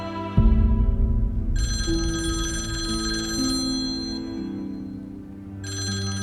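A telephone ringtone chimes loudly in a repeating electronic melody. It starts abruptly and keeps ringing over a low hum of background music, pausing briefly before starting again.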